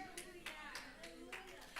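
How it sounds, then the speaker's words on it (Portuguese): A church congregation claps for the Lord in a few scattered, fairly close bursts of about five or six beats, with speech underneath the clapping. "Pode aplaudir ao Senhor."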